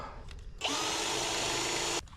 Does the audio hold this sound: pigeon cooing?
no